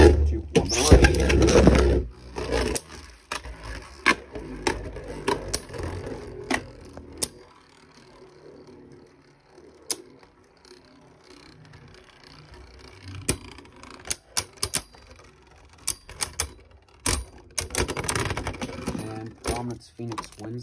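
Spinning battle tops launched into a plastic stadium, a loud ripping launch followed by scattered sharp clacks and rattling collisions, spaced irregularly, with a voice talking over parts of it.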